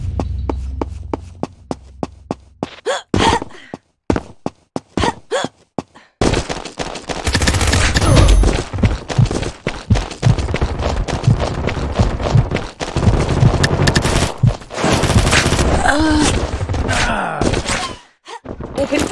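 Gunfire in the video game Combat Master, rapid bursts and sustained automatic fire with thuds and impacts, loud and dense through most of the stretch, with brief game voice lines.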